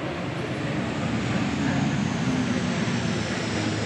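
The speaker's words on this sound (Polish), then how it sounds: "To jest średni samolot transportowy przystosowany do desantowania żołnierzy, transportu rannych, ładunków." A medium military transport plane flies over an Armed Forces Day parade in Poland, its engines a steady broad roar heard from a distance as a commentator talks over it.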